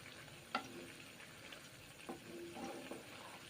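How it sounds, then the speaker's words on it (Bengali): Masoor dal cooks quietly in a pot while a spatula stirs it, giving a few soft clinks and scrapes over a faint bubbling background with no talking. "খুন্তি করে নেড়ে চেড়ে রান্না করছি।"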